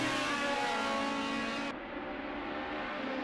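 Race car engine in the Assetto Corsa racing game at the Bilster Berg circuit, a steady loud drone with dense harmonics, its brightest upper tones dropping away partway through while the engine continues.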